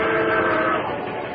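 A fast-approaching train on gleaming rails roars loud and close, its sustained horn-like tones blaring over rumbling wheels before easing slightly, with no voices.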